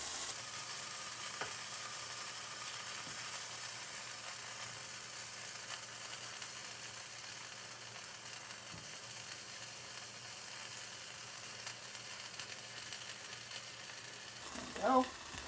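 Small cut pieces of food melting in a pan on a moderate flame, giving a steady, even sizzle that holds for the whole stretch, with a brief stirring clatter near the end.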